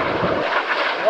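Douglas A-4B Skyhawk single-engine jet at an air show, a loud broad roar of engine noise sweeping past, steady and dense throughout with the crowd setting faintly beneath.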